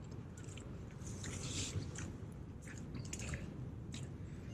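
Footsteps squelching through mud on a walking track near Lion Rock at the southern end of Tasmania, soft wet squishes and sucking steps over steady outdoor hiss, quiet and close.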